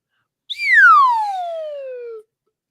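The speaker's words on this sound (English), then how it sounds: "Got your slide whistle handy, Carl?" A slide whistle plays one loud, clear descending glide, starting with a sharp high note and sliding smoothly downward for almost two seconds before stopping, alone in silence.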